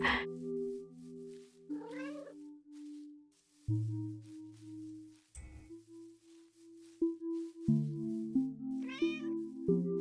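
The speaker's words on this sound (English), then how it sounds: "It's the cat." A cat meows several times in short, plaintive cries spaced through the clip, mixed with soft chirpy tones and gentle game music in the background.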